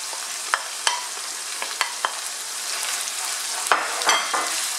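Onions fry in a pan with crab, ginger and garlic for okra stew, giving a steady close sizzle with scattered clicks and taps of stirring throughout.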